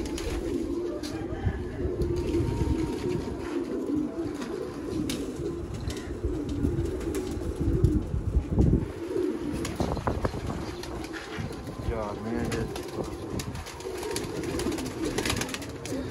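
Several pigeons coo continuously on a rooftop loft, a dense low murmur of overlapping calls with occasional rustles and wing flutters, steady and fairly close throughout.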